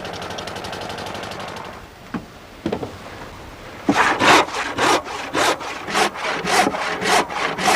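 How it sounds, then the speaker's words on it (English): A wooden centreboard casing for a Shannon boat being cut out with a hand saw, starting with some steady rubbing and a few tentative strokes, then settling into loud, regular rasping strokes close by. "cuts out the centreboard casing"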